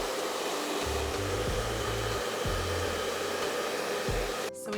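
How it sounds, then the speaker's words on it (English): A hairdryer blows steadily and loudly on cake mirror glaze throughout, its motor hum shifting slightly in pitch and cutting off just before the end. "now let's do the marble effect with our hairdryer"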